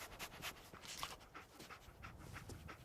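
Dog panting in the video game Fallout 4, a steady run of quick breathy pants under a low, noisy background bed, faint and continuous with no speech.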